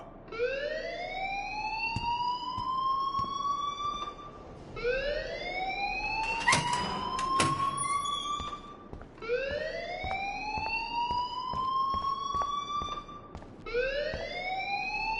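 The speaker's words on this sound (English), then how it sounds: "please turn off that alarm since that's your job" School alarm ringing in the video game Life is Strange: a rising wailing siren tone that repeats in sweeps every few seconds, loud and steady, with a brief burst of clatter in the middle.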